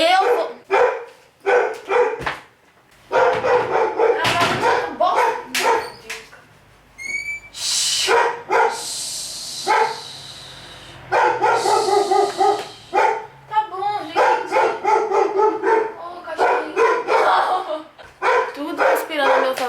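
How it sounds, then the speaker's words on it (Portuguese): A neighbour's dog barking repeatedly in loud, close bursts, with a few yips and whimpers between, while a person keeps talking over and between the barks. "eu vou continuar o vídeo com esse cachorro latindo mesmo"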